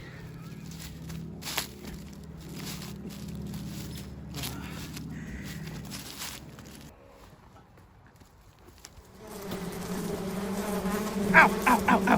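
A swarm of bees buzzes around a nest in a tree, a droning hum with scattered rustles and knocks nearby, growing louder and denser toward the end.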